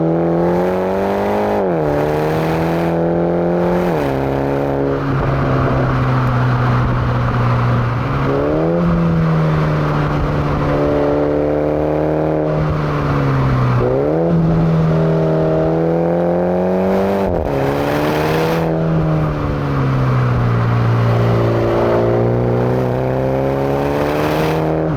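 MINI GP3 engine pulling hard through the gears in manual mode, loud and close, with repeated rising revs broken by sharp drops at each upshift, alone without talk.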